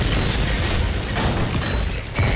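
A drillship blowing apart in the video game Volcanoids: a dense, loud roar of explosive rumble and shattering debris that fills the whole stretch without pause.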